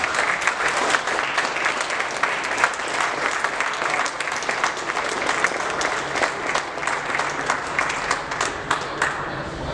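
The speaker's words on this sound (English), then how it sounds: "Give yourself a big round of applause." Sustained audience applause at an incentive breakfast event, a dense continuous wash of many hands clapping at steady loudness for the full duration, with no speech over it.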